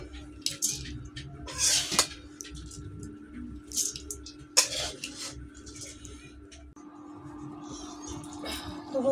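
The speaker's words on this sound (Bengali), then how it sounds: "কড়াইয়ে এতক্ষণ আমি কষিয়ে নিলাম, এখন আমি রাইস কুকারে তুলে নেব।" Mutton being scooped from a wok into a rice cooker, with intermittent metallic scrapes and clanks of a spoon against the pans, short bursts separated by pauses over a low steady hum.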